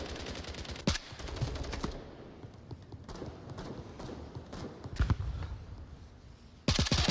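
Bursts of rifle and automatic gunfire in the VR shooter Onward during a competitive match, sharp cracks around a Hesco wall, with dense rattling volleys at the start and end and scattered loud shots between, over continuous background game noise.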